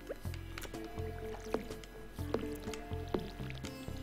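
Watering can being filled with water in Stardew Valley, a soft squishy liquid sloshing repeated in short bursts with small drip-like plinks, quiet game ambience beneath.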